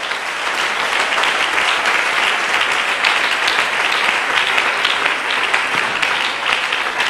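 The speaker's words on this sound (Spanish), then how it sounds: "Dele un aplauso a la gloria de Dios en esta noche." A church congregation claps together in praise during an evening service, loud, dense applause sustained at an even level from start to finish.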